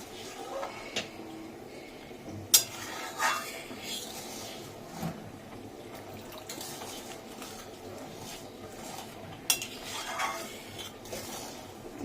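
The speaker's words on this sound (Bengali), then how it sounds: "এবার মা এই যে কর্নফ্লাওয়ার গোলাটা দিয়ে দিচ্ছে, আর খুন্তি দিয়ে নাড়ছে" Vegetable soup being stirred with a metal spatula in a pot as cornflour slurry is added a little at a time, giving soft scraping and occasional sharp clinks of utensil on pan, fairly faint and steady.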